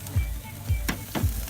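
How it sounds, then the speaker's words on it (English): BBQ spare ribs sizzle on a charcoal grill smoked with hickory chips, with three soft scraping thumps as the meat is flipped over a steady hiss. "We're going to give the meat a flip."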